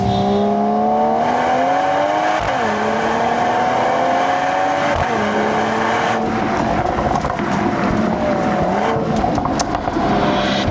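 Mercedes-AMG E53 convertible's M256 engine in Sport Plus mode, a steady loud drone that rises through the revs with brief gear-change dips, close and continuous with no talk.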